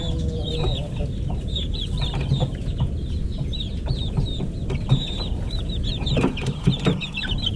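Japanese Dumpo Shamo chickens, including newly hatched chicks, clucking and chirping close by in a steady overlapping stream of short calls, with small knocks and rustles scattered through.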